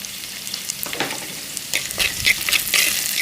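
Curry leaves and green chillies sautéing with softened onion in a hot pan for Kerala-style roasted-coconut chicken curry: continuous close sizzling broken by bursts of spatula stirring and sharp crackles that grow busier toward the end.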